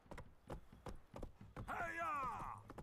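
A horse gallops in the video game The Witcher 3, with rhythmic hoof thuds repeating steadily, and then a whinny-like cry overlaps the last second.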